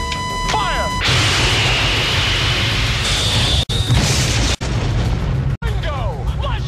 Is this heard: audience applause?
no